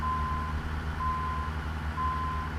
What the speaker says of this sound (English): It's like a proper beep backup bell.